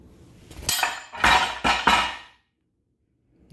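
A steel bolt dropped onto a Targets USA Mini Popper metal target gives a few sharp, close metallic clanks in quick succession as it strikes and bounces, then the ringing dies into silence.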